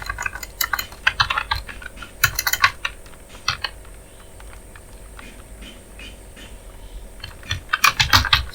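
Typing on a computer keyboard while setting up a Flutter app build, with close, quick bursts of key clicks, a quieter stretch in the middle and a busy flurry at the end. Nobody speaks.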